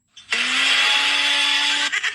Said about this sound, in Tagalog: paandarin mo nga ang blender